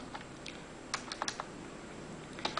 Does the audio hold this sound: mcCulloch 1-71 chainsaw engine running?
no